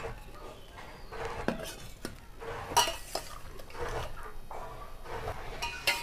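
A ladle scrapes and clinks against a cooking pot while lifting out boiled jackfruit pieces for pickle, with repeated metallic knocks and light wet stirring sounds, close and fairly loud.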